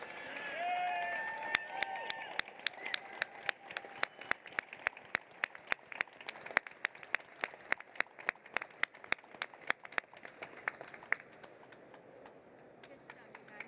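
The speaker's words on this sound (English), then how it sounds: "let's give her a huge round of applause, Madam Secretary of Labor, Lori Chavez de Reamer." An audience applauds the Secretary of Labor at an auto dealers' technician apprenticeship event: crisp, distinct handclaps that thin out into scattered claps, with voices at the start.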